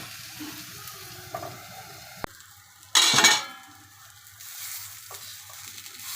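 Marinated chicken breast sizzling in a frying pan is flipped with a utensil, with scraping and clinks and a sudden loud burst of sizzle, followed by a steady frying hiss as the pan is covered; no one talks.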